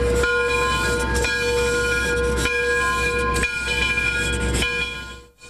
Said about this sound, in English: One of the big draws is the operation of steam locomotives.